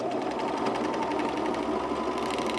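A serger sewing machine runs steadily while stitching a Strathcona Henley knit garment, a continuous close whirring hum with rapid needle chatter and no pauses.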